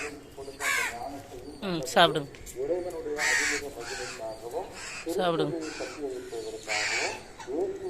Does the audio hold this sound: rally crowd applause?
no